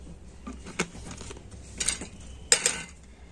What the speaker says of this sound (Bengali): তো এখন আমি কর্নফ্লাওয়ার তেলটা কিন্তু খুব ভালো করে মিশিয়ে নেব।